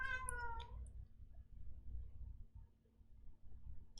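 A cat meows once, loud and close, a bright stretched cry at the very start, followed by quiet room hum with faint rumbling noise and a small chirp at the end.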